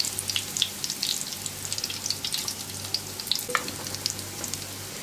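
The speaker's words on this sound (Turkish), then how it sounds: "bitene kadar aynı işlemle kızartmaya devam edeceğim ben" Steady close-up sizzling of zucchini fritters frying in a pan, with continuous crackling and small pops throughout, no talking.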